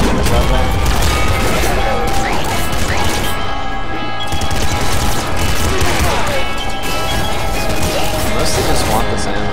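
Plasma gun fire in the game Nuclear Throne: dense, continuous crashing and blasting effects with layered game music run loud throughout, and a voice talks over them.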